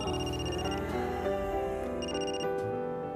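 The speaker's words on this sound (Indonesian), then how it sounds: "Untuk saja semua terhenti ketika Rio mendapat telepon dari rumah sakit." A telephone rings with an incoming call from a hospital, its bright electronic ring tone sounding in repeating bursts over a steady dramatic music bed.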